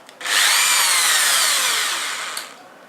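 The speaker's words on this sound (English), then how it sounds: "we need to remove the rivets on both sides, top and bottom sides, using a drill like this." A power drill whines steadily for about two seconds as it bores out the rivets holding together the casing of a Thermowatt 1200W geyser, starting abruptly and easing slightly before stopping.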